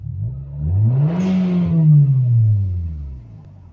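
A car engine fitted with an aftermarket cold air intake revs up, its pitch rising and holding high before falling back, loud and close, with no talking.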